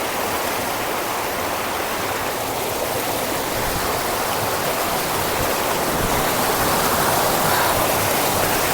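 Fast-flowing stream water near Jogini waterfall in Manali, a loud, dense, unbroken rushing roar that is close and continuous, with no voices over it.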